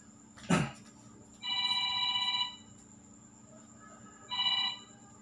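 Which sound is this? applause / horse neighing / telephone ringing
telephone ringing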